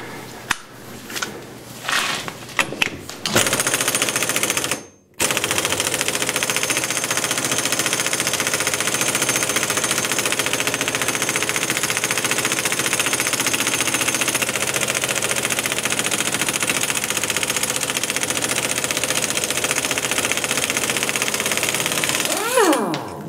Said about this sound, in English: This generally takes some hammering with the impact.